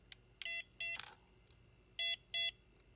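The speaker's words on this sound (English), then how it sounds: "Double beeps." Two pairs of short, clear electronic beeps from the setup button of a BETAFPV Cetus X ExpressLRS (ELRS) FPV remote controller, quiet and close, with a small click between them and no talk.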